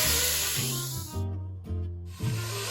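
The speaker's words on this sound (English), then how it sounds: "So it's always first the onions, caramelizing the onions, so you really get that flavor out." Onions sizzling while caramelizing in a pan, a loud continuous hiss with rhythmic swells and dips, as if stirred, with a steady low hum underneath.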